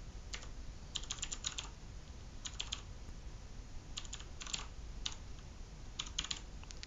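Quick bursts of keystrokes on a computer keyboard, clustered clicks with short gaps, fairly faint and close over a steady low hum, with no voices.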